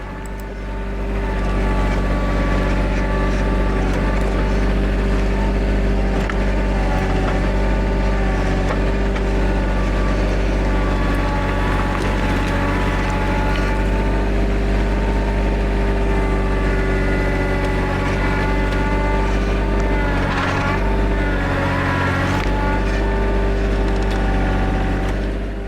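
Loader with a 4-in-1 bucket pushing against a standing dead tree, its heavy diesel engine droning loud and steady throughout, with a brief rise in revs and strain near the end.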